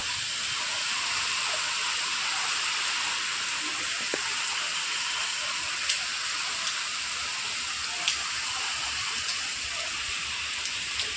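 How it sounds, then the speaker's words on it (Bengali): Heavy rain driven by strong wind during Cyclone Remal makes a steady, dense hiss throughout, with a few faint ticks of drops striking nearby surfaces and no voices. "হাওয়াটা বুঝতে পারছো কীরকম হাওয়া দিচ্ছে, আর বৃষ্টিটা দেখতে পাচ্ছ"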